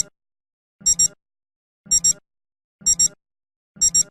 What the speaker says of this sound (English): With the alarm turned on, the alarm tone will sound for 15 seconds at the time set.